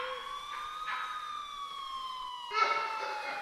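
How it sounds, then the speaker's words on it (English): A distant emergency siren wails with a steady, slowly falling tone, holding faint and far off throughout with a slight swell near the end, and no talking. "I finally heard sirens in the distance"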